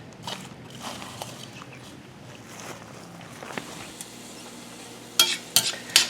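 Carrot and onion cook in Amish butter in a pan, giving a low steady sizzle with stirring and scraping, ending in a few sharper utensil clanks near the mic.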